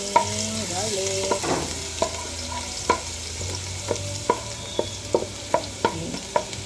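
Garlic frying in hot cooking oil, a steady sizzle under sharp clinks of a utensil stirring against the pan that come in an irregular rhythm, close and clear, with no talk.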